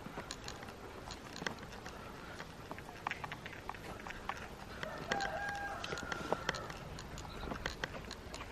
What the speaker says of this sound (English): I can hear the cockerel.